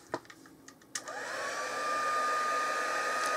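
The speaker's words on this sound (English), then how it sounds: "Now I'm going to put my heat tool on." A few light taps and clicks come first, then a heat tool for heat embossing starts up. Its steady, close blowing whir rises in pitch as it spins up and then holds loud and even.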